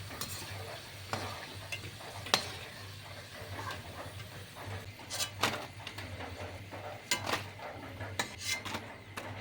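Taro chips frying in hot oil over a high flame, a continuous crackling sizzle close by, broken by occasional sharp clinks and scrapes of stirring.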